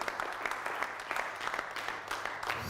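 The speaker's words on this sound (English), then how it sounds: "So I think a round of applause, and for all the advisors in the room" An audience at a workshop applauds steadily with dense, even clapping from many hands throughout, fairly close and moderately loud.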